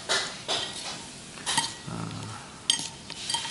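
Dry egg noodles with pork and wontons tossed and mixed in a small bowl, giving a few clinks and scrapes of utensil on dish at close range with soft rustling between.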